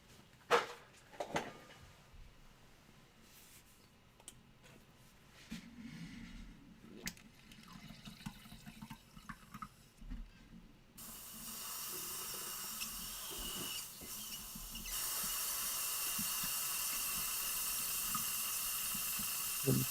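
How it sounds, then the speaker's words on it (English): An airbrush is rinsed through with water, starting with soft clicks and handling noises, then breaking into a loud, steady spraying hiss that lasts through the second half. "Just giving my airbrush a quick rinse."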